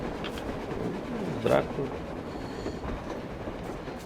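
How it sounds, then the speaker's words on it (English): A steady rumble of a train rolling on rails in the video game Metro Exodus fills the scene, continuous and fairly loud, with a brief louder swell midway and a short spoken word over it. "Looks like they're chasing that train too."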